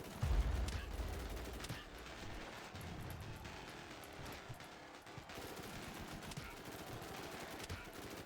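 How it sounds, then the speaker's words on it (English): Enemy gunfire in the dieselpunk shooter Dieseldome, a dense, quiet stream of rapid machine-gun shots and rumbling blasts mixed with chaotic combat noise throughout. "Something's shooting at me."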